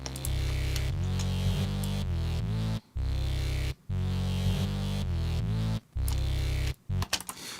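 A distorted synthesized bass from Ableton Live's Operator plays a loud, gritty, buzzing low riff in repeated sustained notes with short silent gaps between phrases, ending in a few stuttered bursts.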